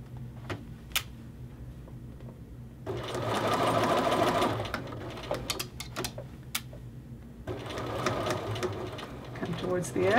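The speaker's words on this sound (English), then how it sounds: "I'm going to go ahead and go back to regulation stitch, holding in front and behind as I sew" Sewing machine stitching a men's shirt collar, running in two sustained bursts of rapid, even stitching separated by a quieter pause with light handling noises, close and moderately loud, with a voice faintly present.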